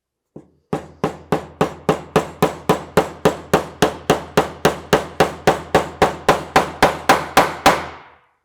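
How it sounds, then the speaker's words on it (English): Nail hammered into the wooden front panel of a small homemade cajon, about twenty sharp, evenly spaced close hammer strikes in a steady rhythm, each ringing briefly, with no talking. "let's go ahead and get this first nail hammered in"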